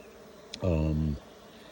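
A honeybee buzzes close by at a very strong, multi-super hive in a bee yard, a half-second droning hum that rises and fades over soft background.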